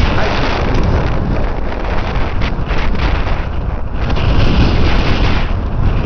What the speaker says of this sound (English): Hear any whistling and everything else. It's very windy.